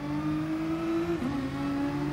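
An Alfa race car engine in GT Sport at Le Mans holds a steady, loud drone, then dips briefly in pitch as the car shifts and pulls away again, with no one talking.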